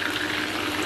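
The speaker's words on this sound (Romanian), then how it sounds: "Și adaug apă, dacă voi vreți puteți adăuga vin alb." Water is poured steadily into a hot frying pan with chicken pieces cooking for Romanian ostropel, a continuous loud hiss and splash with no talking.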